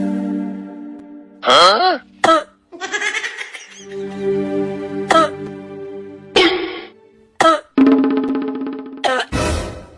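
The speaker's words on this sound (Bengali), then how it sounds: "বাবারে কাশির অবস্থা রে" A person nearby coughs loudly over and over, with harsh throat-clearing bursts and strained, almost bleating wheezes between short pauses.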